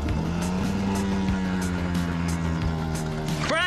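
A small boat's outboard engine runs in shallow water, a steady close-up drone with a low hum that holds evenly throughout, with a brief whirring rise at the very end.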